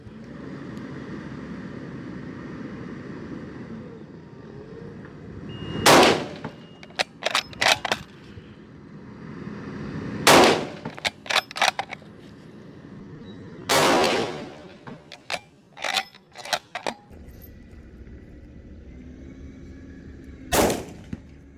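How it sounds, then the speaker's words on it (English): Loud, sharp shots from a 450 Bushmaster scout rifle firing 250 grain FTX rounds outdoors in Texas, several spaced reports with quick follow-up cracks and ringing tails over a low steady background. "And we're going to do some shooting."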